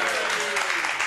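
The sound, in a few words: studio audience applause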